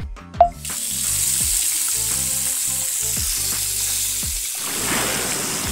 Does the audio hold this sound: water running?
yes